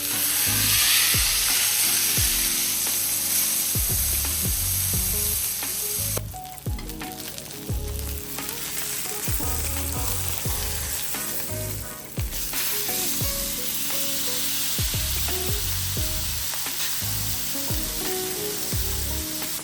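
Avocado oil sizzles and spits loudly in a hot pan for a ribeye steak, a constant bright hiss broken by frequent knocks and scrapes of a utensil against the pan, close and with no talking.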